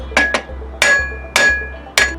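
Hammer striking metal while a Suzuki Katana 600 motorcycle chain and sprockets are replaced, giving five sharp ringing blows, two quick then three spaced apart, loud and close.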